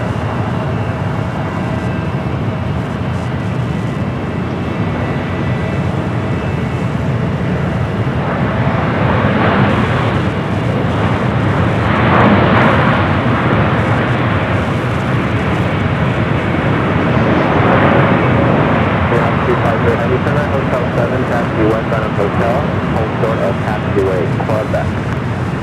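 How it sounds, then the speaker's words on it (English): A Royal Air Maroc Boeing 787-9 Dreamliner in special livery arrives at LAX from Casablanca, producing a steady rumbling roar that swells midway, with someone talking over it throughout. "Royal Air Morocco in the Go Lions 2026 livery. Flight 250 coming in from Casablanca. 7-year-old 787-9 Dreamliner."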